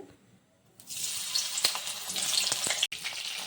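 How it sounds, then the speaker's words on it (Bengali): Cauliflower florets frying in hot mustard oil in a wok give a loud, steady sizzle that starts abruptly about a second in and holds to the end, with a brief cut near the close. "প্রথমে আমি ফুলকপিগুলোকে হালকা করে ভেজে নেব তার জন্য আমি কড়াইতে তেল দিয়ে দিয়েছি"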